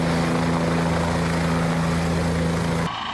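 A helicopter flies overhead on a fish-release mission in mountain country, a loud steady engine drone with a pulsing rotor hum that continues for several seconds before cutting off abruptly.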